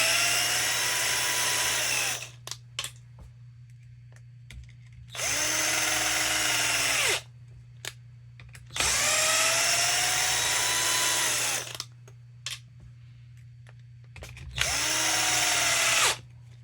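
A power driver spins screws out and in on a Losi 22S RC car build, four separate bursts of whirring separated by pauses, with small clicks and handling noises between them and a faint steady hum underneath.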